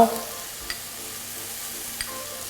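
Vegetables stir-fried in a pan for a vegetarian Shanghai-style kaprao dish give a steady, quiet sizzle, with two brief clinks of the utensil against the pan.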